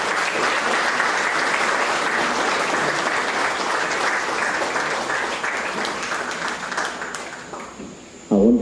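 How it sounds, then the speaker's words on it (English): A crowd at a 70th birthday celebration gives a loud, sustained round of applause, steady dense clapping that tapers slightly before a sudden louder burst at the very end. "and thunderous round of applause."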